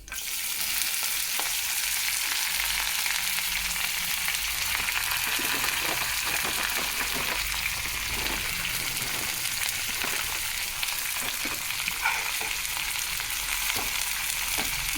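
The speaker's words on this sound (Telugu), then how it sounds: "తిరగమూత వేగిపోయింది." Tempering spices sizzle steadily in hot oil in a pan, a dense, continuous frying hiss with occasional crackles that holds evenly throughout, close and alone.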